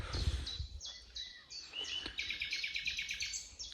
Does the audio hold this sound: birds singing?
yes